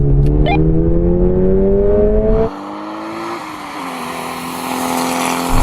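A Toyota GR86 and a Mk4 Supra accelerate hard side by side in a half-mile rolling drag race from 30 mph in second gear. Loud rising engine drones climb steadily, then drop at a gear change and build again.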